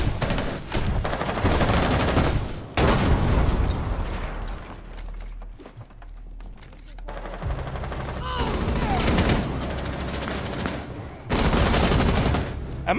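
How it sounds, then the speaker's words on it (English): Sustained bursts of video game gunfire crackle loudly, in heavy volleys with a brief quieter lull in the middle, then resume intensely, with some speech mixed in. "Am I getting hit by ricochet bullets?"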